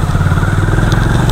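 A motorcycle engine runs close and loud with a steady, slightly clattering putter as the bike pulls up, heard alone for a brief moment.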